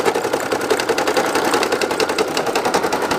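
Embroidery machine stitching a spooky Halloween patch design, a loud, close, rapid mechanical clatter with an even repeating needle rhythm throughout.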